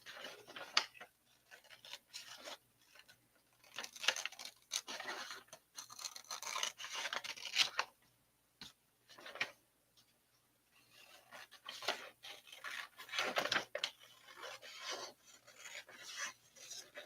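Blade cutting through leather for a desert hat band, a series of irregular rasping, scraping strokes in short bursts with brief pauses, close and fairly quiet, without talk.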